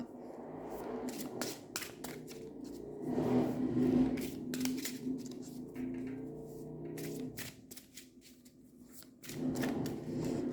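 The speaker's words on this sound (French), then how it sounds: "Une petite carte, ce serait bien. Voilà, les mélanger comme ça." Playing cards being shuffled by hand, with soft riffling bursts and rustles spread across the span, close and fairly quiet, with brief pauses between handling.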